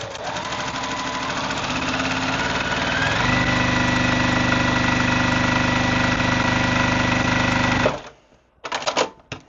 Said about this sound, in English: I'm just going to sew along these diagonal lines.